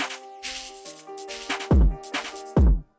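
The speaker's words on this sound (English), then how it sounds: "And same as like the gunshots, I like to fade them out" Drill beat built in FL Studio, with sustained melodic tones and pounding low hits, and gunshot effects whose loud bursts fade away near the end.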